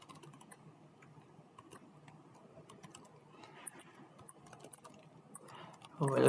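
Keys clatter steadily on a computer keyboard while code is typed into an editor, light close-up clicks with a louder burst at the end and faint speech in the background.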